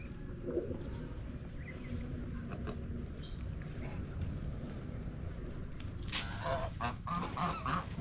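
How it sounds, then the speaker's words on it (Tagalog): Geese honk repeatedly near a pond, with bursts of calls over a steady outdoor background, growing busier toward the end; a person talks at times. "Yung ating mga gansa ay they are enjoying on the other side."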